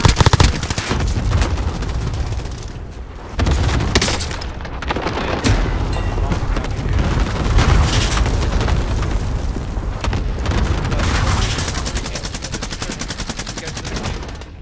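Heavy gunfire in a multiplayer shooter, dense bursts of automatic shots mixed with booming blasts that run almost continuously at high volume, with a brief drop before the barrage picks up again.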